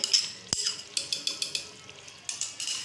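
Ingredients for lemon pepper beef handi with cream are stirred in a pot. A sharp knock is followed by a regular run of metal spoon scrapes and clinks against the pot, close and fairly loud over a faint sizzle.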